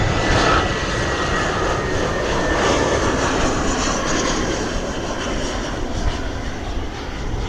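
An EasyJet Airbus A320 airliner arriving at Bristol Airport roars loud and close, its steady broadband jet engine rush holding throughout, with no talk over it.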